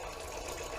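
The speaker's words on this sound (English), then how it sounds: "both of them are draining into the drain bucket." Water drains from a PC cooling loop and gushes steadily into a bucket during a teardown, a continuous close splashing rush with no talking.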